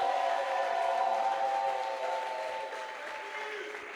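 Easter Sunday church congregation applauding and cheering in a sustained, dense wash of clapping and voices that holds steady for the whole stretch, easing slightly toward the end.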